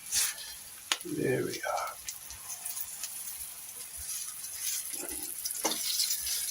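Trout fries face first in oil in a pan with a steady sizzle throughout, joined by a few brief clacks, while someone speaks briefly over it.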